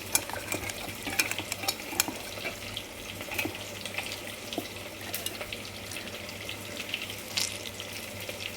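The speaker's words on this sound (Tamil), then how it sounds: "இப்போ ஒரு எமிச்சம்பள அளவு புளி அதை கரைச்சிக்குவோம்" Tamarind being dissolved by hand in water for pepper kuzhambu: soft, irregular sloshing and squelching with small splashes, quiet and close, over a low steady hum and no speech.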